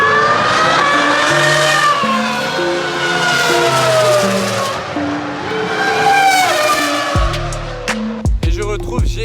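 Formula 1 race cars passing at a supercar gathering, a loud high-pitched engine wail with shifting rising and falling tones that fades, followed by lower rumbling engine sounds near the end.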